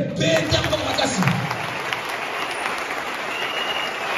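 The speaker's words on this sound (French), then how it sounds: "Acclamez." A church congregation breaks into loud applause at a pastor's prompt, a dense burst of hand-clapping that swells at first and then carries on steadily throughout, with voices mixed in underneath.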